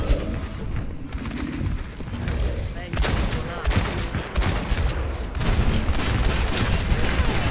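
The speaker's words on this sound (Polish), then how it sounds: "Zapominam, że ona aż tak szybko strzela." Rapid rifle fire from Ashe in the game Overwatch, crackling shots scattered over a busy, continuous battle din with other gunfire and effects throughout.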